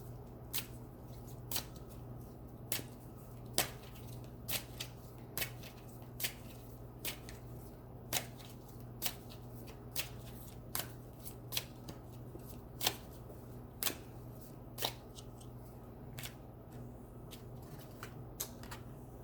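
Oracle cards are handled and shuffled in a quiet room, with faint crisp snaps repeating roughly every second over a low steady hum.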